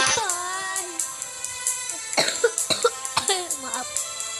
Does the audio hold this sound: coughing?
yes